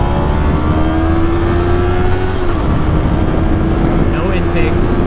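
A 2021 Yamaha MT03 motorcycle with an aftermarket exhaust and no tune runs while being ridden, its engine droning loudly and continuously at a steady pitch with a slight shift midway, close to the rider amid wind rush.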